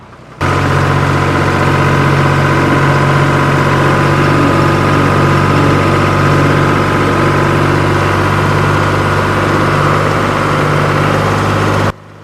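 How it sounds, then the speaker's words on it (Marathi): A tractor engine runs steadily throughout, a loud low rumbling drone that holds constant from start to finish with no voices. "शंभरच्या स्पीडमध्ये ट्रॅक्टर चालवतो"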